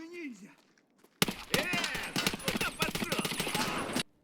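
Rapid automatic gunfire in Escape from Tarkov, a long loud burst of dense cracking shots running for about three seconds after a brief spoken moment, then cutting off abruptly.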